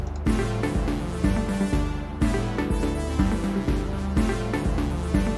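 A synthesizer lead melody written in music software plays over a rhythmic backing of low bass notes, moderately loud and steady, with no talking.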